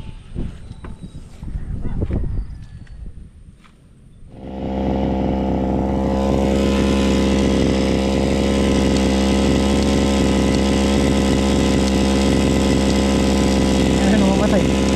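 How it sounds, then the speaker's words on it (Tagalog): A grass cutter engine on an okra farm starts after a few seconds of voices and handling noise, then runs loud, steady and close with a raspy, buzzing drone. "Doon natin testingin yung grass cutter."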